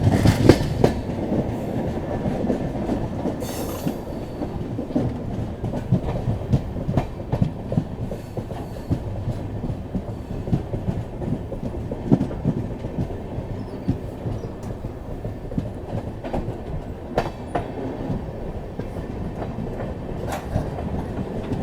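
Passenger train rolling along rails on a journey from Latur toward Ujjain and Sehore, with a steady, continuous rumble and rhythmic wheel clatter heard from inside a carriage, loud and unbroken throughout with no talk.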